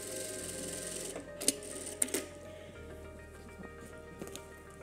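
A sewing machine stitches a shoulder bag in a quiet run. Its low steady motor hum carries a few sharp clicks and taps.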